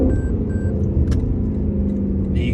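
A Lexus LC500's engine and exhaust give a steady, loud low rumble that holds through the whole moment, with faint high tones and clicks on top.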